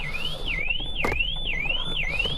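A Vauxhall car alarm wails in a steady, repeating rising-and-falling siren sweep, loud and close, continuous throughout with a brief sharp click in the middle.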